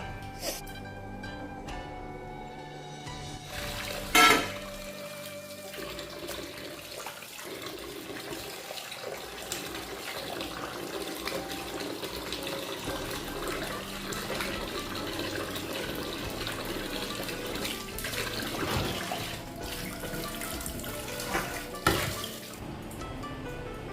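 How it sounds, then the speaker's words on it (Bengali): Raw chicken washed under a running tap in a home kitchen, a steady stream of water splashing throughout, with a few louder clatters and splashes as the pieces are handled, and no talking. "ঠান্ডা হতে হতে আমি চিকেনটা ধুয়ে নিই"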